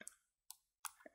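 Sparse computer keyboard clicks, three or four quick keystrokes spaced apart, faint and close, with silence between them.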